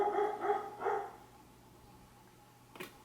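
A dog barks three times in quick succession, fairly loud and near, then goes quiet apart from a faint brief knock.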